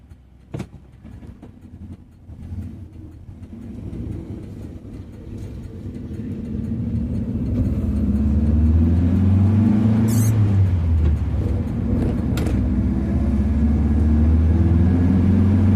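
A Ford Zephyr V4 engine at fast idle on choke, a steady low rumble that rises and thickens partway through and then holds, close by, with no talk over it.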